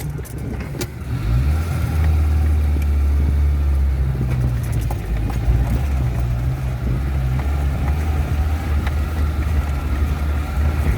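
A Maruti Gypsy jeep's petrol engine runs steadily, a loud, continuous low rumble with an even idle throughout and no talk over it.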